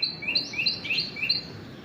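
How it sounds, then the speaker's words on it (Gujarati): Sparrows feeding nearby give a quick run of bright, high chirps, about eight short tweets in a loose rhythm over a quiet background, with no talking. "આ ખાય છે ચકલી"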